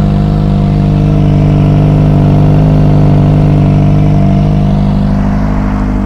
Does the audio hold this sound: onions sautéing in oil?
no